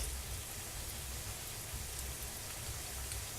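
Steady rain falls outside as a continuous, even hiss with no pauses, heard alone without any voices.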